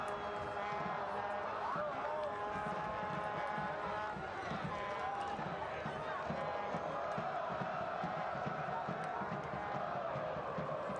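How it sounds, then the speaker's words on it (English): A large stadium crowd of Pittsburgh Riverhounds supporters, the Steel Army, roars and chants steadily throughout a soccer match against Tampa Bay Rowdies, a dense continuous wall of cheering voices at a distance. "Steel Army trying to cheer the Riverhounds home here"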